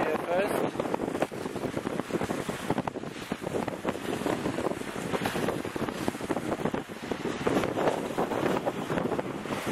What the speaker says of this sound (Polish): Wieje fest.